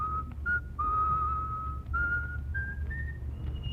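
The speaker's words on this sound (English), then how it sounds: "That man's always whistling." A man whistles a tune in clear sustained notes that step upward in phrases, close and prominent over a low background hum, with no talking.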